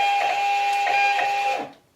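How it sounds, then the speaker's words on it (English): Label printer running off a shipping label, a steady mechanical whir with faint rhythmic pulses through its stroke, close and fairly loud, ending abruptly after nearly two seconds. "if anybody's wondering about my label printer, seriously the greatest investment that I've ever made in reselling"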